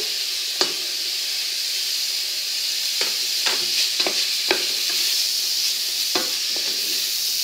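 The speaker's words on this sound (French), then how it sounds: "C'est le moment que je choisis pour mettre mes champignons. Et vous allez voir, les champignons vont rendre de l'eau." Mushrooms and lardons sizzle in a pan, a steady bright hiss broken by several sharp crackles and spatters at irregular moments, with no talking.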